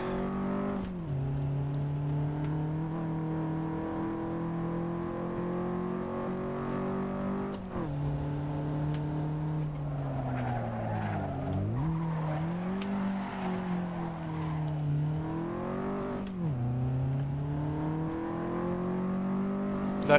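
A racing video game car, an 86, revs its engine steadily with harmonic whine rising and falling through gear changes, plus brief tire squeals, loud and continuous with no talk.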